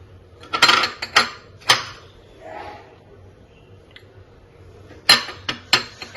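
Young jackfruit kofta mixture being mashed together with flour and cornflour in a bowl, heard as a few sharp utensil clinks and scrapes in short bursts, close and moderately loud, with quiet gaps between.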